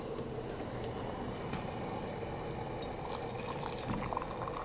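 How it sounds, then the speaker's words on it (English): Water pours into a kettle in a faint, continuous trickle for several seconds, with soft clinks and a low background hum around it. "Fill the kettle."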